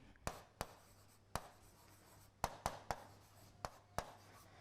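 Chalk or marker strikes against a classroom board while a trigonometry equation is written, a series of about nine sharp, separate taps at an irregular pace over a quiet room.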